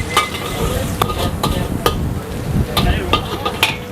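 Chicken pieces dropped into hot oil at a busy street food stall sizzle and crackle steadily, broken by sharp scraping and clanging of a spatula against the wok, with kitchen clatter close by.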